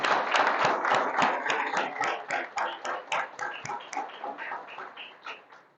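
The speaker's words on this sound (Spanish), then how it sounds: "Vamos a darle varios aplausos al Señor." A church congregation applauds during a sermon, a few dozen people clapping in loose rhythmic bursts that grow sparser and fade toward the end, fairly close.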